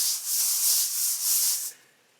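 Metal drum brushes sweep across a drumhead in a soft, hissy swish, two or three smooth back-and-forth strokes close up, then fading out.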